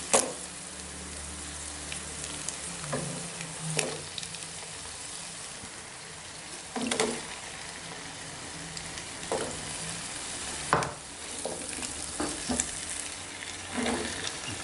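Potatoes fry in masala with a soft, continuous sizzle, and occasional louder scrapes and stirring bursts sound through it.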